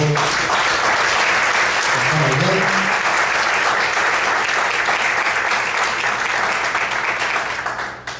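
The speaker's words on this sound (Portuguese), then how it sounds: "Você pode aplaudir o Senhor." A crowd claps steadily and loudly throughout, a dense wash of applause that fades slightly at the very end, with a voice briefly audible beneath.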